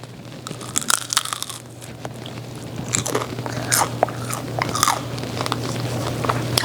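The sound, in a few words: biting into crunchy cream cheese egg roll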